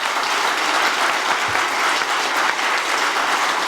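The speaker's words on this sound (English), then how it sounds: "let's give them a round of applause" An audience at a culinary summit gives a steady, full round of applause, dense even clapping from a large crowd throughout, with no talking on top.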